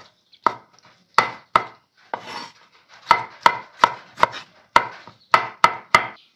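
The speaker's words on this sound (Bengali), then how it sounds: "আমি টমেটোটা কেটে নিচ্ছি কুচি কুচি করে।" Tomatoes being finely chopped with a knife on a board for a vegetarian potato and pointed gourd dish, a dozen or so crisp, close knife strikes in uneven bursts with short pauses between, no talking.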